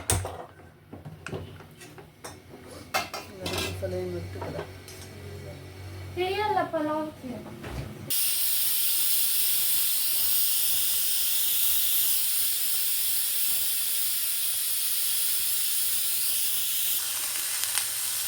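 A pressure cooker cooking vegetable pulao lets off a loud, steady hiss of steam from its whistle that runs unbroken for about ten seconds, after a stretch of quieter kitchen clatter and a brief voice.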